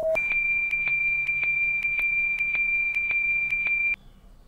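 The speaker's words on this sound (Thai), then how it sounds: "ไอเสียงปี๊บๆนี่ก็สั่นประสาทใช้ได้นะครับ" Electronic beeps sound during a robot test in the horror video game The Prototype: a steady high tone repeats in a fast, even rhythm for about four seconds, then stops, loud and alone.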